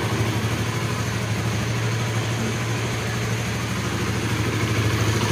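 A motorcycle engine idles steadily after a cold start, a continuous loud low rumble with an even throb that holds throughout, no voices over it.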